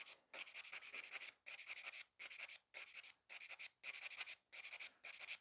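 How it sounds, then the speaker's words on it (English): A nail file works over a fiber gel sculpted nail extension to take off bulk. It makes about nine close, quiet rasping strokes in a steady rhythm with short pauses between them, and no one speaks. "So file away this bulk."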